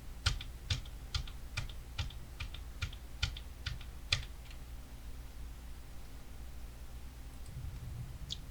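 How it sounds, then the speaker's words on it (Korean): Ctrl+D is pressed again and again on a computer keyboard, about ten crisp key clicks in a steady rhythm over roughly four seconds, close and quiet, followed by faint room hush. "컨트롤 키 꾹 눌러서 D 키 눌렀다 떼기를 10번을 반복할게요"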